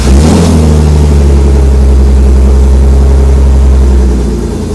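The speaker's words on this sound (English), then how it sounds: "That's one of the fastest starting cars I've ever heard." A 1959 Austin Healey 3000 with side pipes fires up quickly and revs, then settles into a loud, close, rumbling idle that holds steady before easing slightly at the end.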